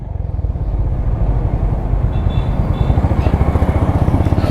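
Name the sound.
Honda H'ness CB 350 motorcycle accelerating in first gear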